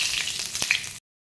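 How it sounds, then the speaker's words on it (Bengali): Panch phoron spices drop into hot oil in a wok and crackle in a close, bright sizzle. The burst lasts about a second, then cuts to silence. "কড়াইতে দিয়েছি তেল, এবার দেবো 5 ফোড়ন।"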